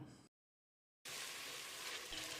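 Tomatoes sizzle and hiss in a hot pan, cut off by a brief moment of silence before the sizzling resumes steadily and loudly.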